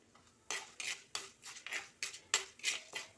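Cooking pots and dishes clatter in a home kitchen, about nine sharp metallic clinks and scrapes in an irregular rhythm, close and moderately loud with no speech.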